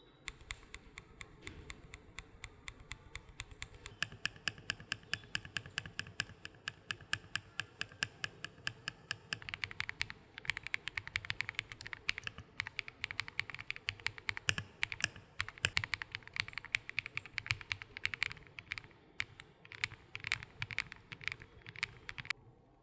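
Rapid, steady typing clatters on a Kiiboom Phantom 81 wireless mechanical keyboard, dense close keystrokes with crisp taps that grow brighter and busier partway through, heard alone without speech.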